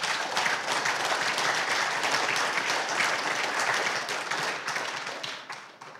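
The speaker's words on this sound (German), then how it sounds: "Applaus" An audience at a conference talk applauds continuously for several seconds, a dense crowd of clapping hands that tapers off slightly at the end.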